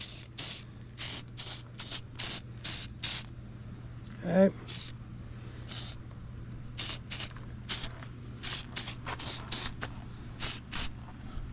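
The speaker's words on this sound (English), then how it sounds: "You can also kind of spray in here too." Anti-corrosion spray is applied to a Mercury 9.9 Pro Kicker EFI outboard motor in repeated short hissing bursts, close and fairly loud, with a brief spoken word partway through.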